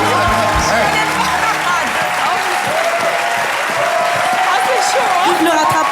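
A French TV studio audience applauds loudly and continuously on a talk show set, the clapping sustained throughout while voices talk over it.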